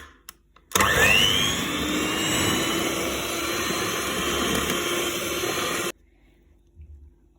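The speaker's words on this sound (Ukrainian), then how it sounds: "Тепер збиваємо сир вершковий." An electric hand mixer whips cream cheese in a bowl, starting abruptly after a brief silence and running as a loud, steady high whine for about five seconds before cutting off.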